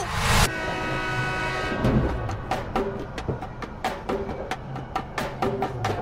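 A train rolls past close by, opening with a loud burst and then a steady run of rhythmic clacks as the wheels cross rail joints.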